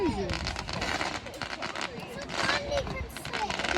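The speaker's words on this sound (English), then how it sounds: "The big bangs that go right through your chest." Fireworks at a bonfire night display, with repeated crackling bursts and rumbling bangs mixed through steady crowd chatter and voices talking nearby.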